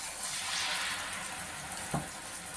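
Wheat bonda batter dropped into hot oil, a steady broadband frying hiss throughout with one brief soft plop near the end as a piece goes in.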